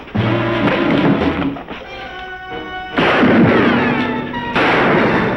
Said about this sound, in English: One of Sutton's men goes down with a bullet in his abdomen